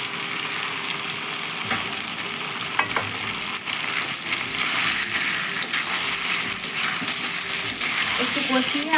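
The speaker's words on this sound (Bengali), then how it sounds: "আলুটা এবার দিয়ে দেবো।" Potato pieces go into a red meat curry frying in a pot, giving a continuous close sizzle with scattered soft thuds and spatula scrapes, steady in level throughout.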